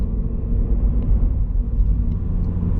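A Subaru BRZ engine hums low and steady in third gear, a constant rumble from inside the car with no talking.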